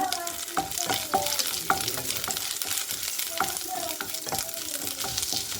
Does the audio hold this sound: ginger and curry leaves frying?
yes